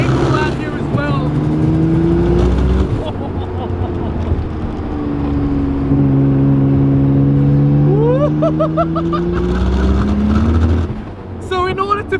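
A 500 hp twin-turbo RB26-swapped Datsun 240Z is driven hard, its engine note climbing through long revving pulls with shifts between them, loud and close, with a voice speaking briefly near the end.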